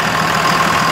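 A 2001 Dodge Ram 3500 dually with a 5.9-liter Cummins 24-valve turbo diesel inline six idles nearby, a loud, steady diesel clatter with a low rumble and no voices.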